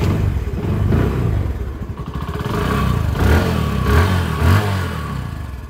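A 2018 Bajaj Discover 125 motorcycle engine, in good condition, idles near the mic with a steady low rumble and revs up in a couple of swells, alongside some mechanical clatter.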